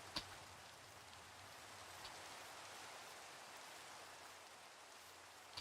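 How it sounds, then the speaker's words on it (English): Steady rain falls in Minecraft, an even, soft hiss of drops with no other sounds, continuous and faint throughout. "It's raining."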